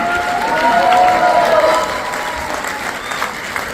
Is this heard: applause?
yes